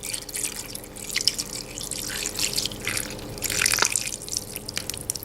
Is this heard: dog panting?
no